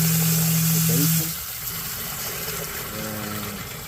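Sump pump pushing water out of a basin, a steady loud rushing and churning drone with a low motor hum that briefly drops in pitch, plus a faint voice.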